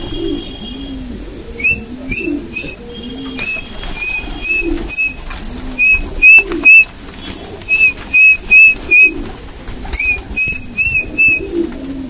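Pigeons in a loft coo repeatedly in soft, rolling calls, mixed with sharp, repeated human whistles used to call the birds, close and clear.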